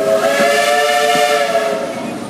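A loud, sustained steam train whistle blows close by with a breathy hiss, holding its chord steadily before tapering off slightly at the end.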